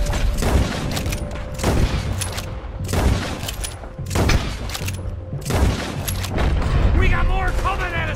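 Gunfire and booming cannon shots in the Red Dead Redemption video game, a series of loud repeated blasts and rifle cracks at irregular intervals, with voices shouting over the battle.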